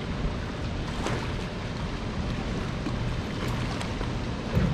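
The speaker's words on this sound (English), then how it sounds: "I'm getting rocked by waves now from the lock" Steady wash of water against a fishing boat hull as waves from a Tennessee River lock rock it below a dam, a continuous broadband rumble with slight slapping, fairly close, no talking.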